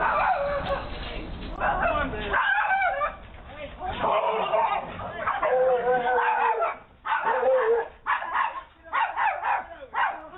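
A dog barks in repeated loud bursts outside a house, captured by a doorbell camera, with agitated voices talking and shouting over and between the barks.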